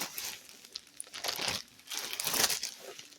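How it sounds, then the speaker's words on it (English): Large 2-gallon plastic Ziploc bags crinkling and rustling as they are pulled out, with several loud bursts of crackling separated by brief quieter pauses. "Ziploc bags."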